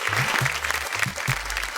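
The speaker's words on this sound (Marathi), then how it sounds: "एकदा जोरदार टाळ्या होऊन जाऊ दे" Studio audience clapping loudly on a Marathi television game show for women contestants, a dense, steady burst of applause lasting under two seconds with a low musical tone running beneath it.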